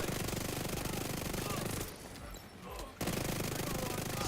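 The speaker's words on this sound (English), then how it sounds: "Bullets down range." Rapid automatic gunfire rattles in The Division 2, loud and continuous, breaking off briefly before the bursts resume.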